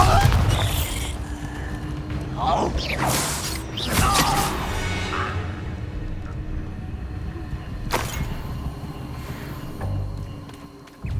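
Bombarda explosion spell cast in the Hogwarts Legacy video game, with booming blasts and crashing impacts amid combat noise and a game voice, several heavy hits early on followed by sustained rumble.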